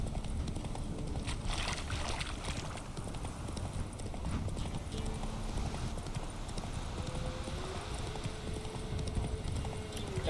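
Roach the horse's hooves clip-clop steadily on the ground in The Witcher 3, a continuous close rhythmic trot under game ambience and faint background voices.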